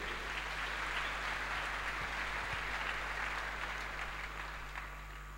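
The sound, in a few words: church congregation applauding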